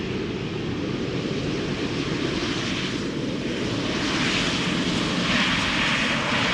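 A Transavia Airbus A321neo jet on its delivery flight passes with a dense, steady engine roar that swells slightly toward the end, loud and continuous with no talk.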